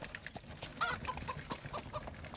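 Soft chicken clucks and short calls from a video game come and go over a low background rumble, fairly faint and a little distant.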